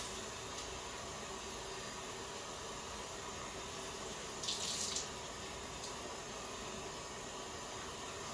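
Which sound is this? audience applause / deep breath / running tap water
running tap water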